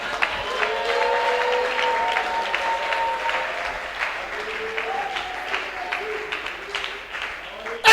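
A church congregation applauds and acclaims the Lord, sustained loud clapping with cheering and raised voices mixed in, tapering slightly toward the end.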